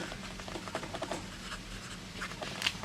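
An Aurora Optima mini Fuoco fountain pen with an 18k gold nib writes on an ordinary Blasetti paper pad, giving soft, close scratchy strokes in an irregular stream of short scrapes, with no talking.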